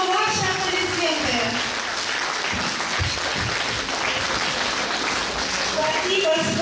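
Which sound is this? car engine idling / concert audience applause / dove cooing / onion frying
concert audience applause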